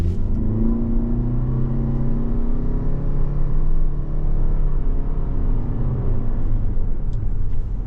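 A 2023 Toyota Venza accelerating back up to road speed after an emergency stop test, heard from inside as a steady low engine and road rumble with a gently rising whir, no talking.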